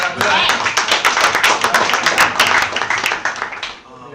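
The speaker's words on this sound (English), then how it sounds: "Clap it up" Studio audience at a youth empowerment show claps in a brisk, dense patter of many hands for about four seconds, fading near the end, with a voice talking over it.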